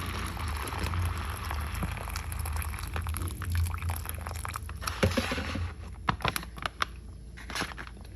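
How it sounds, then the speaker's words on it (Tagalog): Water poured into an instant self-heating food pack, a continuous close liquid splash and gurgle for several seconds, ending with a few sharp plasticky clicks and rustles. "Tapos lagyan natin ng tubig."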